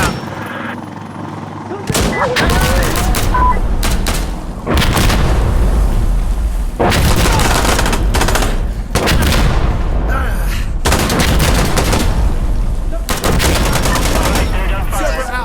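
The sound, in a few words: gunfire and artillery fire in the video game Insurgency: Sandstorm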